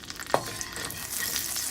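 Oil and butter heating in a wok give a steady, soft sizzle that slowly builds, with a single sharp metallic clink near the start.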